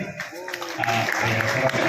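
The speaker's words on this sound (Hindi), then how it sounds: "जोरदार ताली" Applause swells at a district-level Tulsi Jayanti gathering in Kanker, the crowd's clapping building and growing louder and denser, with voices mixed in.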